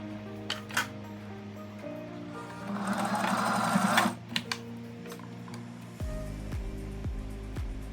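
Home sewing machine running in a short burst of a few stitches along a seam of a gathered-waist summer dress, a steady whir mid-clip amid quieter handling and rustling of fabric.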